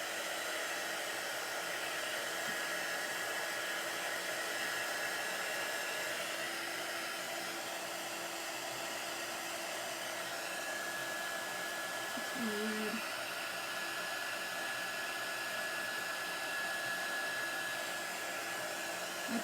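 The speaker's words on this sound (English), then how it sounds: "I'm going to grab my dryer and make sure this is good and dry" A handheld dryer blows steadily on a chalk transfer stencil, a constant whooshing hum that runs unbroken from start to finish with no talk over it.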